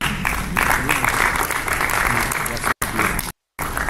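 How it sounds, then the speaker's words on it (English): Audience applause at a conference session honoring families, dense clapping mixed with voices, broken by brief dropouts near the end. "let's give a round of applause to our families"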